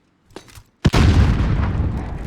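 A grenade detonates on contact in Call of Duty: faint rustling first, then one sharp, loud blast that rolls into a long, rumbling decay.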